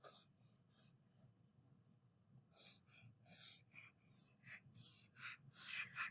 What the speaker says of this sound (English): I'm going to take my pencil and I'm going to start drawing like a zigzag line